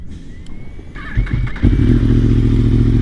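A motorcycle starts off near a parking lot, its engine catching and revving up, then settling into a loud, steady close-up drone as the bike gets moving.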